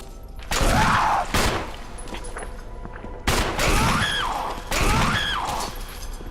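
Gunfire in the video game Resident Evil HD rings out in loud, close bursts of booming shots with crashing impacts, three main blasts spaced over several seconds.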